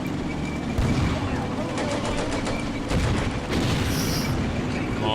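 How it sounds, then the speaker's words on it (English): Grenades and small-arms fire bursting in the WWII video game Combat Mission A Bridge Too Far, a dense rattle of shots with heavier thuds, a commentator's voice running underneath. "Every single guy is going to expel their grenades, and that will at least pin the enemy"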